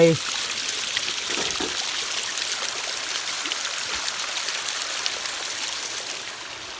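Water from a waterfall at Nam Tok Chim Yai, Ban Khao Phluang in Phetchabun, swollen after recent rain, pours over layered rocks and stones, a steady broadband rush filling the scene near and continuous throughout.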